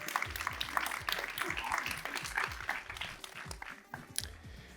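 Applause at an award ceremony for customer-satisfaction prizes, a crowd clapping close by with distinct individual claps standing out, steady then gradually thinning, with a few faint voices underneath.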